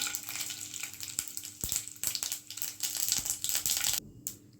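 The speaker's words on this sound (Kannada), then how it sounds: "ಈ ಹಂತಕ್ಕೆ ಎಣ್ಣೆ ಕಾದಿದೆ ಫ್ರೆಂಡ್ಸ್ ಈ ಹಂತಕ್ಕೆ ನಾನು ಸಾಸಿವೆನ ಹಾಕೋತಾ ಇದ್ದೀನಿ" Mustard seeds sizzle and crackle in hot oil for tomato gojju, a busy frying hiss with scattered sharp pops and spits close by, easing off near the end.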